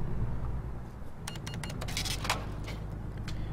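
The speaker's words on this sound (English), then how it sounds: "hear that cash register fly" A cash register chimes and rattles in American Truck Simulator after refuelling at a gas station, a burst of bright clattering clicks lasting a couple of seconds over a steady low engine hum.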